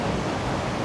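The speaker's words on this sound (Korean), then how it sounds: "이 물소리가 장난 아닌데" Water rushing down a waterfall, heard from the space behind the falls in a natural setting; a steady, dense broadband roar with no pauses, close and fairly loud.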